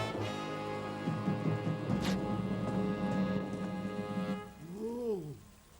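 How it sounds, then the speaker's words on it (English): Steady rain pours in an animated Western cartoon scene, a dense hiss running for several seconds beneath tonal music before it drops away and the music continues alone. "Magic word! It's raining."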